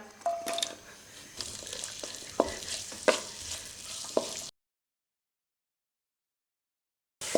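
Roughly sliced onions frying in cooking oil for smoked chicken, sizzling close up while a spoon scrapes and knocks against the pan. Several sharp clacks punctuate the hiss, then a stretch of silence follows before the sizzle briefly returns.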